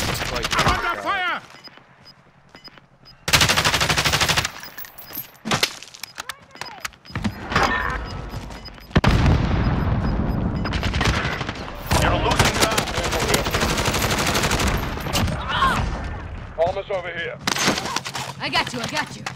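Gunfire in Warzone on PS5: bursts of automatic weapon fire and single shots crack in irregular clusters, some loud and close, others more distant, with voices talking in between.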